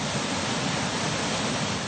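Waterfall running hard after heavy rain, a steady, broad roar of rushing water that stays constant and moderately loud throughout, with no other sounds.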